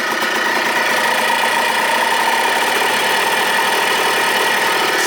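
A Yamaha Blaster ATV engine idles steadily and loudly, a close, continuous buzzing drone with slight vibration and no change in pitch throughout.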